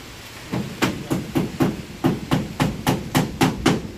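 Repeated hammer blows pounding near a riverside house, about a dozen sharp strikes in a steady, slightly uneven rhythm, close and clear with no talk.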